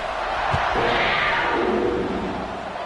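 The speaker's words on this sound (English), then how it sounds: "this crowd is buzzing after that last score" A football stadium crowd at an Ole Miss vs Kentucky game roars in a steady, loud wash of voices, with a brief thump early on and the noise holding high throughout.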